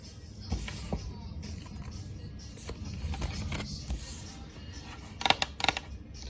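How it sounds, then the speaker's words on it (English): A Moonology oracle card deck being shuffled by hand, giving soft papery riffles and rustles through the clip, with a sharper burst of card flutters near the end and no talking. "shuffling my Moonology deck"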